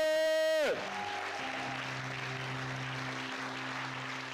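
Church congregation applauding and acclaiming God during an Easter service, a broad, steady wash of crowd clapping and cheering that rises after a sustained tone cuts off and continues throughout.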